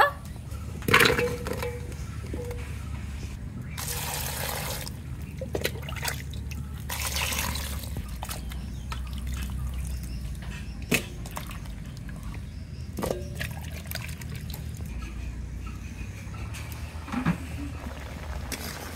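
Chopped bottle gourd is washed by hand in a pot of water, with repeated sloshing, splashing and dripping in irregular bursts close by, plus a few knocks against the container.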